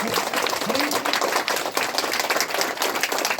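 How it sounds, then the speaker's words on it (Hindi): At a ceremony honouring a Kirti Chakra recipient, a gathered audience welcomes the hero's sister with vigorous, crackling applause, dense sharp claps running steadily for a few seconds with faint voices mixed in. "वीरांगना बहन के लिए एक बार जोरदार तालियों से उनका स्वागत"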